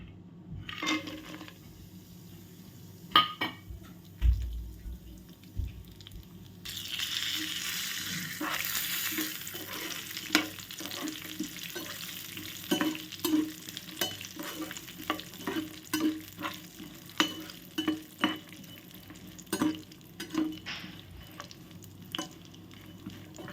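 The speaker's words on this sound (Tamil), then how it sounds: "இதை இப்போ நெய்யில் போட்டு வறுத்துக்கலாம்." Nuts roasting in ghee for pal payasam: a steady frying sizzle swells partway through, with repeated scraping and clinking stir strokes from a spoon against the pan.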